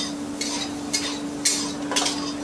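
Fried eggplant with neem leaves being stirred in a pan, four evenly spaced scraping strokes over a faint sizzle and a steady background hum, without speech.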